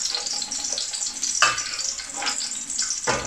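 Peppers and onions sizzle steadily in hot oil for a chicken balti, a continuous close frying hiss with a few sharper bursts as the vegetables are stirred or lifted out.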